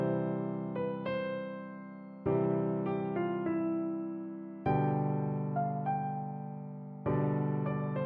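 A sustained melody of piano-like notes sounds over held chords, with a few soft chord changes and no voices.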